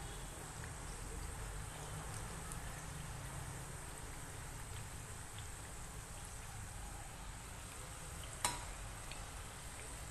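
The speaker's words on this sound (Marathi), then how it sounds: "मंद गॅसवरच आपण मटार करंजी तळणार आहोत" Matar karanji, green pea kachori, frying in oil over a low gas flame, a soft, steady sizzle and crackle that stays faint and even throughout with one brief tap.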